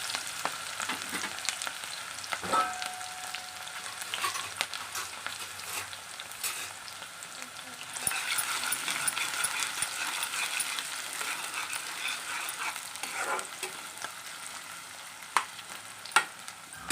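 Four or five green chillies and sliced onions frying in oil while being stirred, an unbroken crackling sizzle with scattered spoon scrapes and taps on the pan, close up, steady and without talk.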